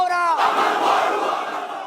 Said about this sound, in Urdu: منگل کے روز منگورا کے نشاط چوک میں ہزاروں لوگوں نے امن کے نعرے لگائے۔